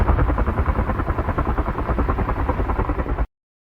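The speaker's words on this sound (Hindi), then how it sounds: "ये है हेलीकॉप्टर। अंग्रेजी में कहते हैं हेलीकॉप्टर।" A helicopter's rotor chops steadily in a loud, fast throbbing drone that holds level, then cuts off abruptly.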